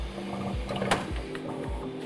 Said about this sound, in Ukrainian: Далі принтер задіває спеціальний механізм скидання, скидає цей філамент.